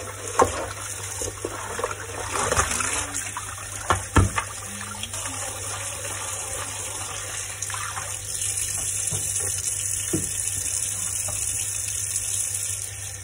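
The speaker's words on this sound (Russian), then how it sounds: "Вода как льется с такой бешеной скоростью." Water runs fast and steady from a tap into a sink, a continuous rushing hiss with a few clinks of cups or dishes early on, close by and moderately loud throughout.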